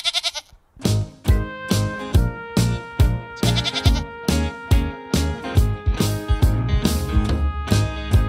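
Goats bleat loudly and repeatedly at close range, a string of strained, wavering calls overlapping one another in quick succession with no talking.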